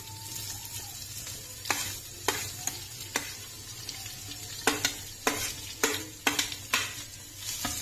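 Onions sizzle in a pan with gongura leaves as a Telugu chicken curry cooks, a steady close frying hiss broken by repeated sharp scrapes and clacks of stirring, alone with no voices.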